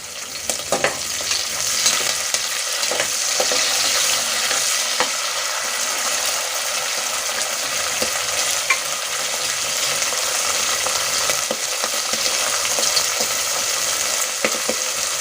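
Green peas sizzling and frying in a pan with ginger, garlic and green chili, a steady loud hiss with scattered stirring scrapes throughout, no voices.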